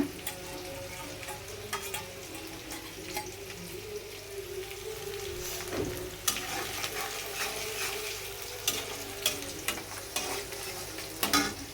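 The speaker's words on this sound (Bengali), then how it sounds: "এটা আমি এই সাথে দিয়ে ভাজির মতন একটা করব" Cabbage, potato and onion greens are stirred and fried in a pan for noodles, giving a steady close sizzle with scraping stir strokes and small clinks throughout, no voices.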